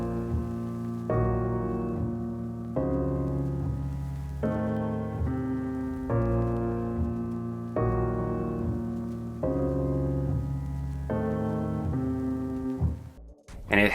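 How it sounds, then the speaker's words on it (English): Dark, moody grand piano from the Waves grand piano plugin plays steady sustained chords with a halftime effect and RC20 texture on the piano bus, loud and alone, cutting off abruptly near the end. "So of course I used a piano, a grand piano,"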